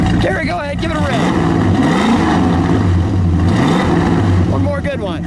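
A 1967 Plymouth Belvedere GTX convertible with a 426 Hemi V8 revs loudly, its deep lumpy idle swelling into a strong rev and settling back, close by, with voices talking over it.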